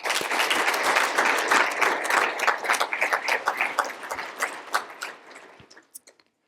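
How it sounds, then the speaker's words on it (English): An audience at the WSOM Hall of Fame award ceremony claps in honour of Mike Gibbons, a dense burst of applause that thins into scattered claps and fades out near the end. "please let's give a round of applause, a moment of silence, and contributions for Mike Gibbons"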